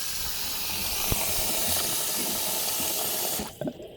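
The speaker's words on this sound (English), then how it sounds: "I'm gonna be getting rid of this water. Now I'm gonna fill it up again." Water runs steadily from a tap into a bowl for washing porcini mushrooms, a loud continuous hiss that cuts off near the end.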